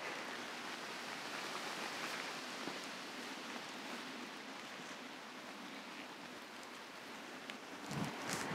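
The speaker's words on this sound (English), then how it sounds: "even though it's raining" Steady rain falls over a 250-year-old cottage garden as a soft, even hiss of drops on foliage and ground, faint and continuous with no voices.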